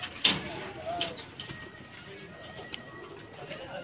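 Pigeons cooing on a rooftop in Sheikhupura, kept as fancy pigeons, with a soft cooing and a few sharp chirps over a faint outdoor hum, fairly quiet throughout and with no talk.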